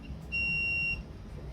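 A single steady electronic beep from a multimeter continuity test as the probes touch, high and clear, lasting about half a second, with faint background hum before and after.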